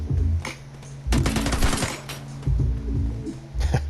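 A Thompson submachine gun firing in a shooter video game: several loud bursts of rapid automatic fire, the longest about a second, separated by short pauses with a low background hum.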